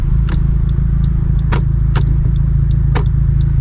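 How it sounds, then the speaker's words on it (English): A Honda Civic Type R turn signal indicator clicks in a slow, regular rhythm of sharp ticks over a steady, loud idling engine hum inside the car. "I definitely prefer a real, just old-fashioned turn signal indicator. Like, you actually get the click."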